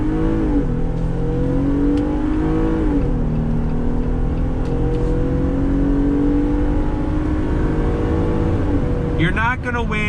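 A 2019 Jeep Wrangler Rubicon hard top pulls away from a stop, its engine droning steadily louder and climbing through gear changes, heard from inside the cabin while a person talks over it.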